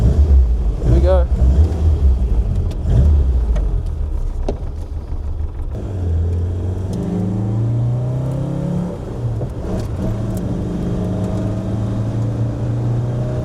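A car laps the Snetterton race track with a steady engine drone and road roar heard from inside, as pitch rises and falls through gear changes and a voice talks over it.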